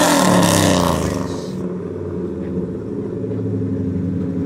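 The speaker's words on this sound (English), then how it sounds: "That's the loudest truck I've ever heard." A lifted Ford Bronco truck with a loud aftermarket exhaust fires up and settles into a deep, heavy idle rumble, close by, after an initial roaring burst.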